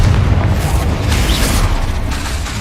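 The Confringo spell blasts in Hogwarts Legacy, a loud, heavy fiery burst with a low rumble that stays strong and then slowly tapers off across a few seconds, without any talking.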